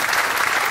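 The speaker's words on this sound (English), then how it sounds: "Give them a round of applause." A live audience at a comedy banjo show claps in a dense, steady burst of applause, loud and close, with no talk over it.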